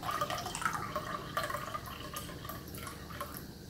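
Water trickling and splashing into a bowl for English muffin dough in a home kitchen, a steady close pour with small drips, no voices.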